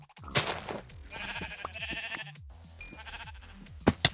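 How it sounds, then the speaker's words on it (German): Several sheep bleat in the Minecraft video game, overlapping wavering cries that repeat close by over a background of game music, with no talking. "Alter, wie viele Schafe sind denn hier bitte?"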